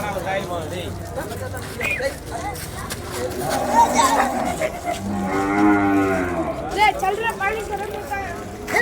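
Cattle moo loudly at a busy cattle market in Vaniyambadi, India, with several long, drawn-out calls close by over crowd chatter and people talking.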